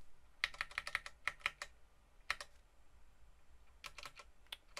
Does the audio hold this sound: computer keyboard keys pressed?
yes